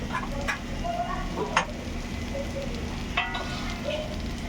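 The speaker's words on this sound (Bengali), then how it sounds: "এবার আমার ম্যারিনেট করা মাংসগুলো আমি এতে দিয়ে ভালো করে একটু কষিয়ে নেব" Marinated chicken sizzling as it is sautéed in hot spiced oil for a Bengali-style chicken recipe, a steady crackling fry with occasional louder pops and stirring scrapes close by.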